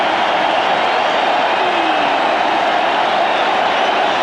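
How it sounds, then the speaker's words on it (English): A stadium crowd at a 1996 South Africa versus Pakistan cricket match roars in jubilation after Waqar Younis bowls Andrew Hudson. The dense, steady cheering fills the whole stretch at full loudness without a break. "There you can see the crowd jubilation when Waqar disturbed the castle of Andrew Hudson"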